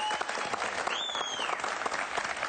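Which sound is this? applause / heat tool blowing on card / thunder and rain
applause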